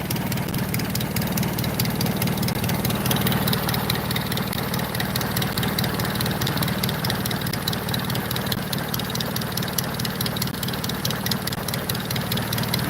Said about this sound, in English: This thing is running like a sewing machine. You can hear that. Listen to that Model A.